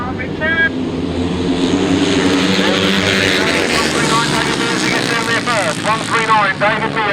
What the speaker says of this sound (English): The revs rise, tapes fly, and here they come.